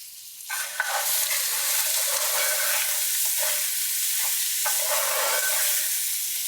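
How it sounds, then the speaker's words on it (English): Pasta toasts in a pan with olive oil and garlic for a rice pilaf, giving a loud, bright, continuous sizzle with faint stirring scrapes, close by and without talk. "we're going to toast that pasta"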